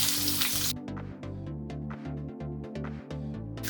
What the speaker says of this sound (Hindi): इसे 2 मिनट तक फ्राई कर लेंगे